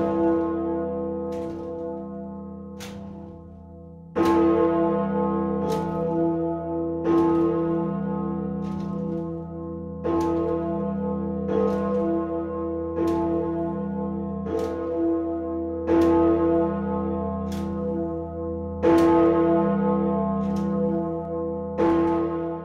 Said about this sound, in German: Also wenn die Salvator-Glocke läutet, dann ist das immer was Besonderes.